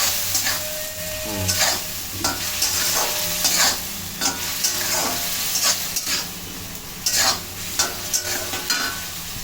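Potatoes frying in a pan for coriander-leaf aloo dum as coriander paste is added and stirred in, with a steady sizzle broken by repeated sharp scraping strokes of the spoon, close and fairly loud.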